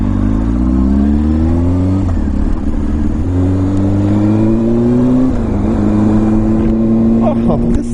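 An old Honda motorcycle engine runs up close, a steady, loud drone that climbs in pitch in stepped surges as it revs, continuous throughout with no clear talk over it.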